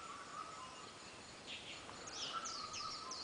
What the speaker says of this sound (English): We'll see if you can hear the birds.